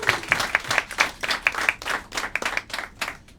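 Clapping from the audience at a roast battle comedy show in Tokyo, loud and close, with distinct individual claps in a quick, uneven rhythm that thins out toward the end.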